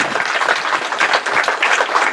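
Dense, steady applause from an audience at a presentation on a solar dryer, close and loud throughout the short stretch without a break.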